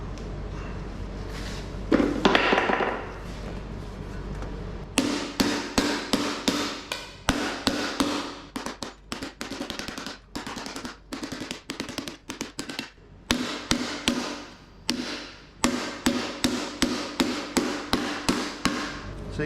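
Close, loud hammer blows rain on sheet metal being dented and stretched, landing in quick rhythmic runs with brief breaks between them, after a short scraping handling noise at the start.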